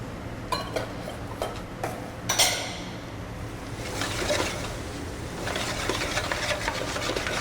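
A spoon stirs ratatouille with fresh basil and oregano in a pot, starting with a few clear clinks against the metal, then easing into a softer, continuous scraping and sloshing, close and moderately quiet.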